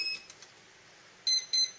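Two quick, high electronic beeps from a quadcopter during throttle calibration sound close together near the end, after fainter chirps and near silence.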